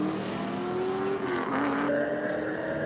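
Drag race cars including a Ford roaring down the strip lanes, a continuous loud engine drone with rising pitch shifts as they accelerate, heard from trackside at a distance.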